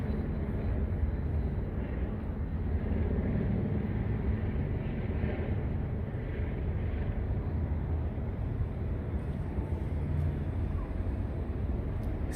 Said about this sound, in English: Still hear helicopters flying around.